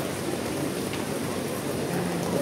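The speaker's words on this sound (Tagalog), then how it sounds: "And it's raining." Steady rain falls over a crowded street market in Sham Shui Po, Hong Kong, a dense continuous hiss of drops on surfaces mixed with faint crowd murmur and city noise throughout.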